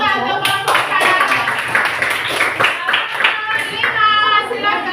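Classroom applause for a student group, a burst of many hands clapping steadily and close by, with children's voices mixed in throughout.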